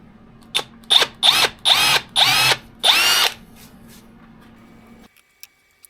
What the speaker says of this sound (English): that's just me putting my woodworm screw in